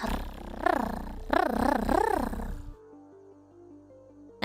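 A person imitates a dragon's purr with the voice: three rising and falling rumbling growls, close and loud, followed by quiet tonal background sounds.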